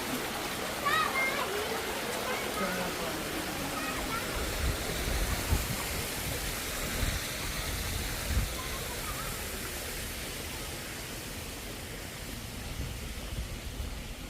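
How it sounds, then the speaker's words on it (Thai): A waterfall visited on a family outing, its steady rushing roar of falling water continuous and fairly loud throughout, with voices heard over it now and then. "น้ำตก"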